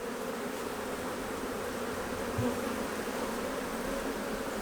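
Honey bees buzz steadily around a long hive frame, a dense continuous drone close by with no talk.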